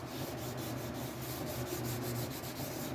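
Steady, close scratchy rubbing of sandpaper on the clear coat of a Telecaster guitar body, continuous and even throughout with no talking.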